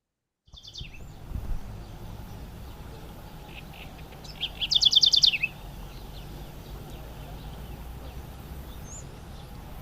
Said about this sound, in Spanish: se le agregó el sonido del pájaro y del agua